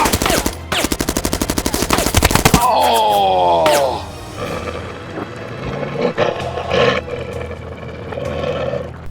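Gunfire effect for an animated comic: a rapid burst of sharp, loud shots in a tight rhythm, then a snarling roar-like sweep and a noisy rumbling tail.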